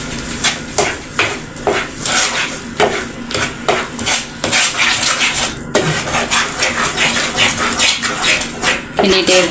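Sugar melting in a pan for rava kesari is stirred steadily, a spoon scraping and tapping the metal in quick repeated strokes over a constant sizzle, close and fairly loud.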